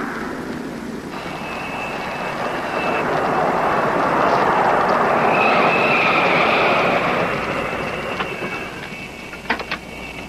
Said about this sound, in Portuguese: O avião já está indo para Georgia.